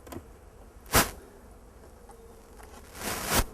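Bees buzz around an open beehive during an inspection on a fine day, a soft continuous hum with a few louder passes as individual bees fly close by.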